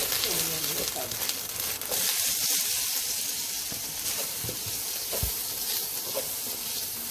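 Ginger garlic paste frying in cumin-seasoned oil for chicken manchurian, a steady broadband sizzle throughout with occasional stirring scrapes and faint background voice.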